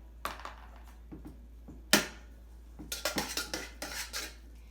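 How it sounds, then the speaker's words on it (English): A spoon clinks and scrapes against a bowl while a spinach and mozzarella mixture is stirred, scattered knocks early, then a burst of quick rhythmic scraping, close and fairly quiet. "Now you have to stir it up really good."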